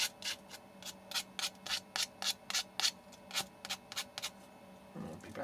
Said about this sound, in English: I might give them a very quick little sand down.